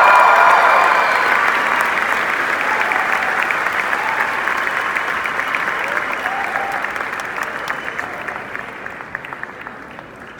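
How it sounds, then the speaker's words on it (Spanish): A large church conference crowd in Guatemala applauds loudly, steady clapping that gradually fades over about ten seconds, with some cheering mixed in. "recibamos con un fuerte aplauso"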